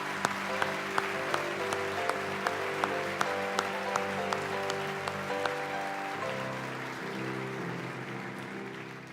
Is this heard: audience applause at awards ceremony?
yes